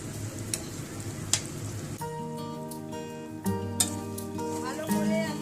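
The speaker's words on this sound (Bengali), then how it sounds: "এবার আমি দিয়ে দেব সর্ষে, পোস্ত বাটা, কাঁচা লঙ্কা বাটা।" Mustard, poppy seed and green chilli paste hits a frying pan for a fish mustard curry, giving a continuous close sizzle with occasional sharp spits under a sustained melodic background.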